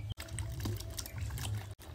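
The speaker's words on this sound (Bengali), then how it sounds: "কেটে রাখা আমগুলো ভালো করে দুবার জল পাল্টে ধুয়ে নিচ্ছি।" Cut raw mango pieces are washed in water for chutney, with a steady close splashing and trickling of water over the fruit, brief and without talking.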